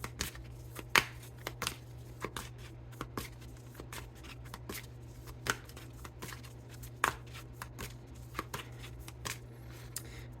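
Tarot deck being shuffled by hand, a quiet close series of crisp riffling card snaps and soft slides repeating at an irregular pace over a steady low hum.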